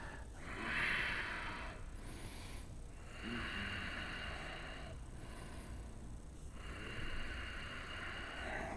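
Slow, audible breathing during a yoga twist in a runners' yin/yang class, long airy exhales in three even waves spaced a few seconds apart, soft and close with no talking.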